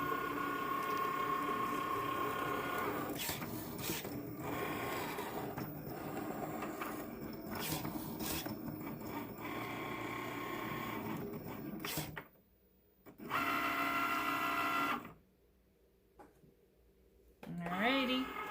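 Cricut cutting machine with a rotary tool cutting fabric for a face mask, giving a steady mechanical whir with clicking, ratcheting movements and a couple of brief pauses as the head travels.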